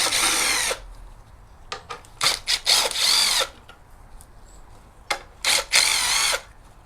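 Impact gun removing bolts from a Toyota Prius engine: several loud, close bursts of whirring rattle, one long run then short stabs and two longer pulls, with quiet gaps between and no talk.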